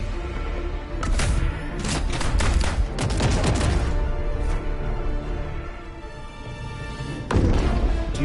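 Mortar strikes and gunfire in the video game Helldivers, a dense barrage of booming blasts and thuds rolling over one another, loud and continuous, then a fresh burst near the end.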